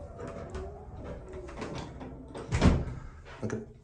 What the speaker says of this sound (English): Look at this, it's got a solid inner door.